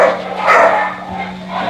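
A mother dog who once could not walk barks near her puppies. There are a few short, loud, close barks with some whimpery tones and no talk over them.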